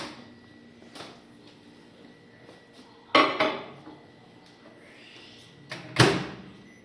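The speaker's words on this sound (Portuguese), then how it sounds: "Agora nós vamos colocar o nosso brownie no micro-ondas" Kitchen clatter while a chocolate brownie goes into a microwave oven: a couple of sharp knocks and dish clinks, then a louder bang of the microwave door shutting, with quiet handling in between.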